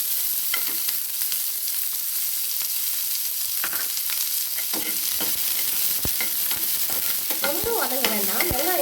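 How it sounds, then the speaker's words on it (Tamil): Chopped onion sautéing lightly in a pan for podi paniyaram, a steady close sizzle with scattered stirring scrapes and clinks, growing busier near the end, with no talk. "வெங்காயம் லைட்டாக ஒரே ஒரு நிமிஷம் போல் லைட்டாக வதங்கினா போதும்"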